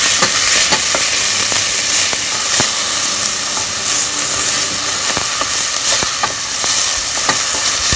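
Onions sautéing in a pan alongside garlic and green chili give off a loud, steady sizzle, broken by frequent sharp clicks and scrapes of a spatula stirring, with no voices.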